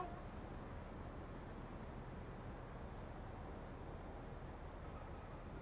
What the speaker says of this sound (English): And crickets are loud.